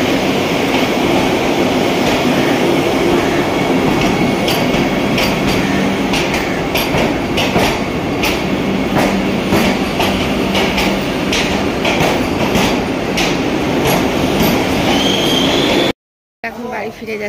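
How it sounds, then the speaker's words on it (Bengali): A passenger train pulls out of a station, its loud rumbling roll carrying rhythmic clicking of wheels over rail joints and occasional metallic squeals, continuous and close, with people talking faintly in the background. "মাদের ট্রেন এখন ছেড়ে দিবে"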